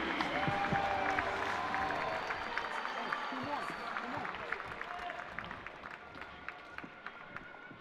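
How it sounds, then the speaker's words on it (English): A crowd of Husker fans applauds and cheers for a winning wrestler at an arena, loud clapping at first that gradually thins and fades, with scattered claps near the end. "we'll hear the Husker faithful cheering him on"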